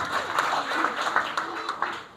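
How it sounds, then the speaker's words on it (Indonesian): A church congregation claps for Jesus Christ during a Christmas sermon, a steady patter of many hands that is moderately loud, with a voice faintly over it. "Tepuk tangan terbaik buat Tuhan Yesus Kristus"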